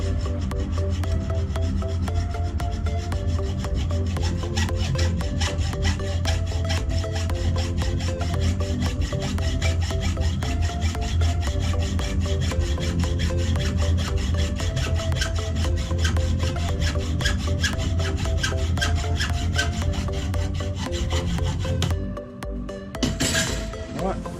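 A threaded steel U-bolt is cut just below its nut with steady back-and-forth sawing strokes, loud and close, grinding on for about twenty seconds before stopping abruptly, followed by a brief clatter.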